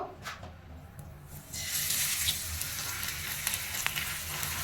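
Chicken chaap sizzling in a small frying pan over medium heat, a quiet background hiss at first that jumps to a steady, louder frying crackle as the piece goes in, with occasional faint clinks.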